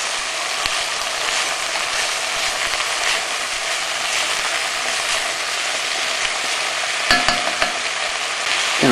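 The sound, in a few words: stirring chilli con carne with herbs in pan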